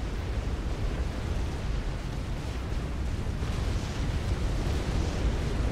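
Galaxy class battleships shelling naval yards on a beach in the strategy game Supreme Commander: a dense, continuous roar of overlapping heavy explosions and artillery blasts with no pauses.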